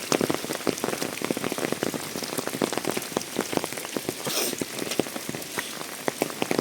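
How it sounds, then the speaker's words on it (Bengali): Heavy monsoon rain pours steadily onto surfaces outdoors, a dense, continuous patter of drops with no voices. "দেখতেই পাচ্ছেন আপনারা কিরকম বৃষ্টি হচ্ছে"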